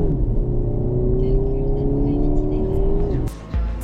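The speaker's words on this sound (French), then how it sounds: "le moteur est très silencieux et très souple" A large estate car's quiet, smooth petrol engine hums steadily from inside the cabin, with a gentle rising tone as it pulls, ending in a brief thump near the close.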